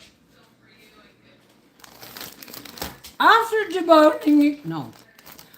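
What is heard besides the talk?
plastic bag crinkling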